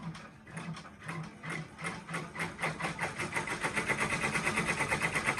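A sewing machine stitches a towel-fabric applique onto a shirt, its rapid mechanical clatter starting slowly and speeding into a steady, fast rhythmic chatter, close and without talk.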